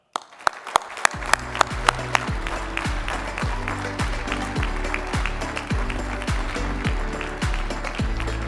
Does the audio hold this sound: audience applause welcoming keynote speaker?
yes